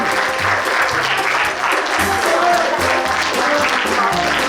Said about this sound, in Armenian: Դուրս եկեք բոլոր ծափարեք